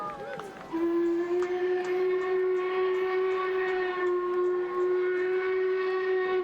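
Jacobite steam train whistle sounding on the viaduct, a long steady tonal blast lasting several seconds, loud and sustained over crowd noise and cheering.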